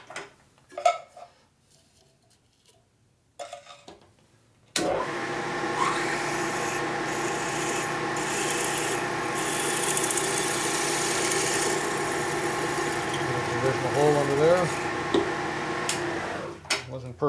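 A steady power drill with a 5/16 tap drill bit grinds and whirs for about twelve seconds into a 1972 Harley-Davidson Sportster Ironhead engine case, after a few quiet clicks and handling noises, fairly close and loud.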